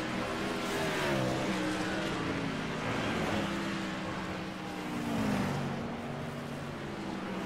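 Race cars speed through the S's at Watkins Glen, engines droning and shifting pitch as they pass close by in a steady, loud roar with no voices heard.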